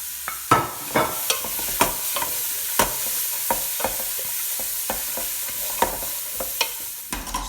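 Chopped carrot, celery, garlic and onion fry in olive oil under a constant sizzle, punctuated by sharp scraping and tapping strokes as the vegetables are stirred around the pan.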